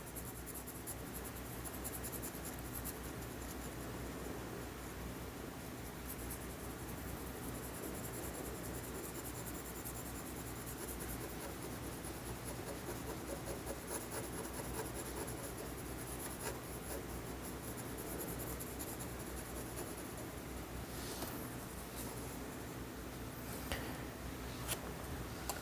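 Graphite pencils scratch and rub steadily on paper while a grayscale sphere is shaded, a soft continuous close-up hiss with small stroke variations and a few sharper ticks near the end.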